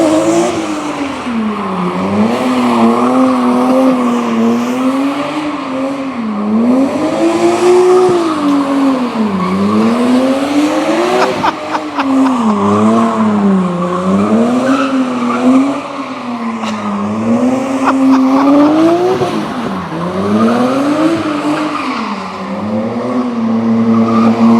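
A BMW E30 fitted with an S50 engine circles repeatedly, tires squealing loudly in long wavering waves as the engine revs rise and fall, close and continuous with no talk.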